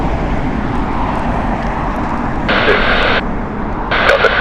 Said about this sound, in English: Look, Cafe Pacific moving along. That looks to be an A350 Cafe Pacific.